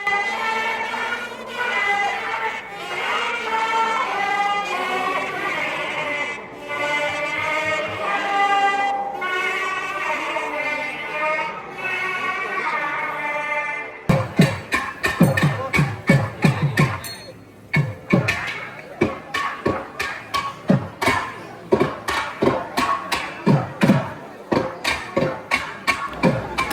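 Solo thavil drumming at a Tamil temple festival: after a dense stretch of nadaswaram-like tonal music, sharp rapid drum strokes take over, loud and rhythmic with crisp attacks and irregular rolling patterns.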